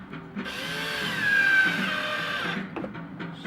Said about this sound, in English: Screwing into this back side of the wood so that no screws are showing outside